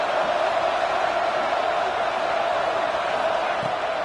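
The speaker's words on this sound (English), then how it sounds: "The crowd elevating its energy, willing this defense to get a stop on this big 3rd down" Steady stadium crowd roar in a football video game, sustained and even as the home fans urge the defense on for a stop on a big third down, with no talk over it.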